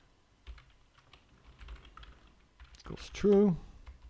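Computer keyboard being typed on, a scatter of soft close key taps followed by a quicker cluster of clicks as someone speaks briefly over them.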